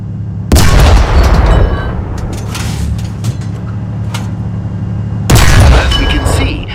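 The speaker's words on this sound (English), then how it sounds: "Fire a few shots at the tank." Tank cannon shots in the War Thunder video game boom loudly, first near the start and again later, each blast followed by a rumbling, lingering tail, with background engine and battle noise between them.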